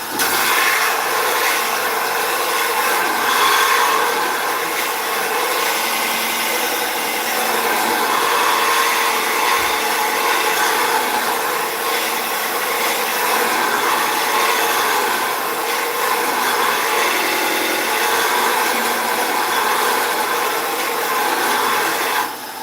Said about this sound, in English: Now here's a pro edge for sharpening, I can say, because it takes literally seconds.